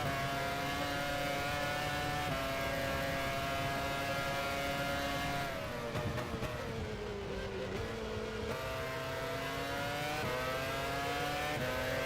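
A Formula One race car engine in F1 Challenge 99-02 at the 2004 Italian Grand Prix wails steadily near and loud, its pitch dipping under braking and then climbing again.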